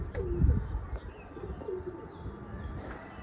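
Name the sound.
pigeon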